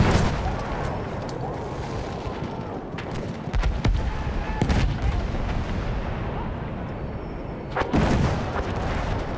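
Battlefield 1 gunfire and battlefield explosions keep up a dense, loud barrage throughout, with sharp shots and booming blasts piling over continuous rumbling combat noise, and a heavy burst near the end.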